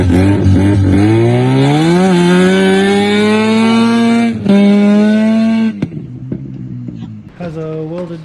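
A drift car engine, fitted with a welded diff and PBM parts, runs loud and close with sustained revving that rises in pitch, dips briefly, then settles into a rougher idle with smaller blips.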